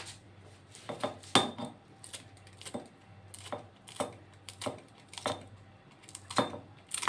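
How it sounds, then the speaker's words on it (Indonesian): A knife chops through a small free-range village chicken on a board, giving a series of sharp, irregular knocks and clinks close by with brief quiet gaps between strokes. "Kemudian ini juga kita potong-potong supaya dia cepat lunak."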